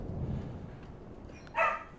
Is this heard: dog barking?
yes